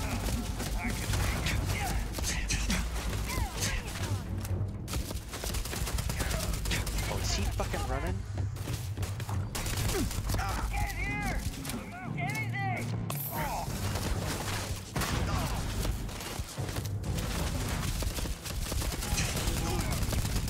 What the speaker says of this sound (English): Oh shit, we got a whole bunch of turrets